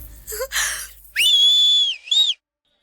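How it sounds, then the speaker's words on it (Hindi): A whistle is blown in two loud, sustained shrill blasts, the first long and steady, the second shorter, heard amid a tense wedding confrontation with brief commotion before it. "किसने बजाई है सीटी?"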